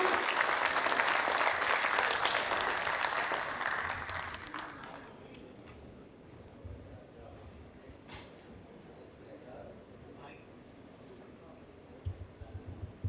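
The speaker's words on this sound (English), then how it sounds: "So she deserves a big round of applause" An audience at the TiECON Chandigarh 2026 conference breaks into strong applause lasting about five seconds, then fades to a murmuring hall with scattered faint sounds.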